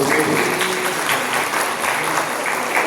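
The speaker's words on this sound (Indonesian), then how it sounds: "tepuk tangan buat Regu." Audience clapping for a team at a quiz competition in Tarakan, a moderately loud, steady patter of applause that runs through the whole short stretch, with faint voices underneath.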